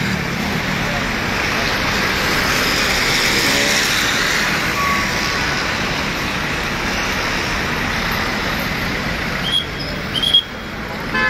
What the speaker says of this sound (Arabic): هنا بأن شاحنة الجر كتقوم بهذا الأثناء بنقل الدراجات إلى المحجز البلدي